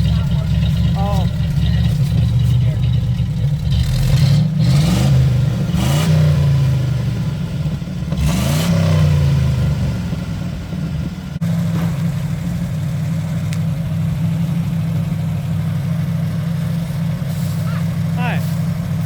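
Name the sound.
1957 car engine idling and revving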